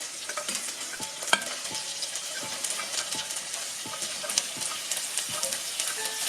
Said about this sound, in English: Now we're going to cook these for a little while, just until they're sort of like nice and translucent.